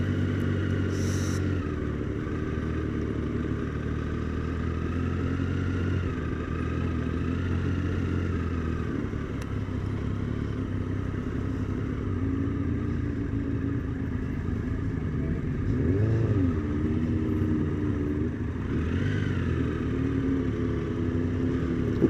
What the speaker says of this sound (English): better picture of how many bikes there are here as we ride past them all